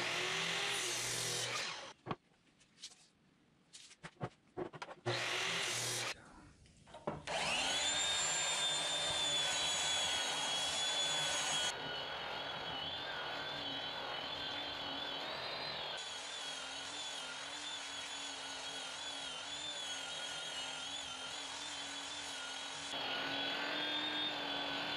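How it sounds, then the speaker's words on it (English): A power sander whines loudly and steadily on wood for a baby's bed after a few short bursts of tool noise, its pitch shifting slightly as it works. "The sanding is taking a lot of time"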